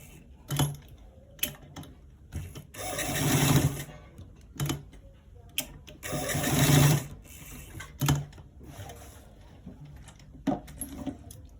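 A sewing machine stitching elastic onto the back of a waistband runs in short bursts of rapid mechanical whirring, two longer runs standing out between clicks and pauses, close and clear.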